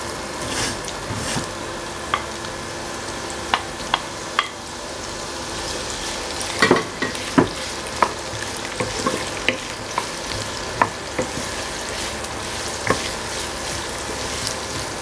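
Sliced onion frying in hot oil in a pan for mutton curry, a constant sizzle with occasional sharp pops and stirring clicks scattered throughout, close and clear with no talking.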